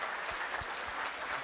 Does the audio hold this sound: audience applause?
yes